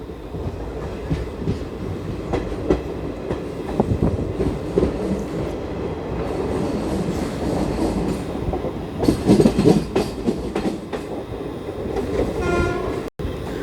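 The 11404 Kolhapur–Nagpur Express runs towards Sevagram Junction. Steady loud rumble and clatter of wheels carry throughout, with a horn-like tone and some wheel squeal rising midway.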